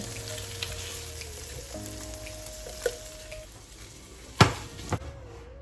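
Food toasts in a hot pan with a steady low sizzle, a faint tonal hum in the background and a couple of sharp clattering knocks near the end.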